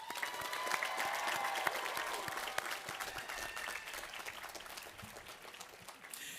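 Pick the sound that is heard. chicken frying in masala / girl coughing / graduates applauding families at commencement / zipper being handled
graduates applauding families at commencement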